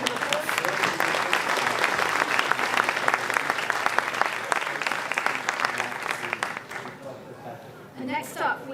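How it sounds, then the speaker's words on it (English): Audience applause after a conversational AI panel discussion, a steady dense clapping that gradually thins and fades out near the end. "A round of applause."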